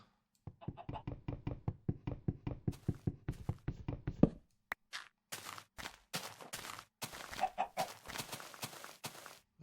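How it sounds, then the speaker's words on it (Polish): Rhythmic blocky footsteps and pops come first, then a run of short clucks from a chicken in an old Minecraft beta build, with game sound effects close and moderately loud and no talk. "Co jest kurczaku?"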